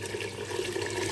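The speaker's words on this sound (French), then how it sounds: "Maintenant je vais mettre l'eau dans mes haricots blancs, à peu près 1 litre" About a litre of water pours steadily into a pot of dry white beans, a continuous splashing liquid rush at even loudness, heard alone.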